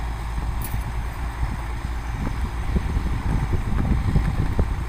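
A boat engine hums steadily on the windy river in front of Wat Phanan Choeng, where the Pa Sak and Chao Phraya rivers meet. Boats carry dense floating vegetation, and the constant low drone is mixed with wind noise.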